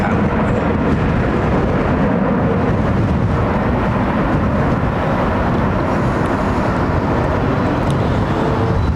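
A Boeing 787 Dreamliner climbs out overhead on departure from London Heathrow runway 09R. It makes a loud, steady broadband jet roar that holds strong for the whole stretch, and no voices are heard.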